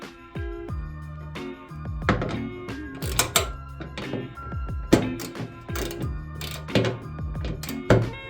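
Hood strut mounting bolts tightened on a 2022 Toyota Corolla Cross, a close series of metallic ratcheting clicks and knocks with ringing tonal resonance, repeating irregularly throughout.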